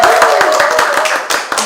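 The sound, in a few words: clapping on request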